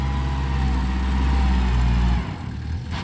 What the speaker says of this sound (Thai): ดูรถไถกัน